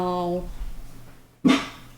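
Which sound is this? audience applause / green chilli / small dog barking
small dog barking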